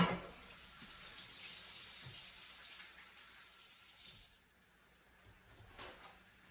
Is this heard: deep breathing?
no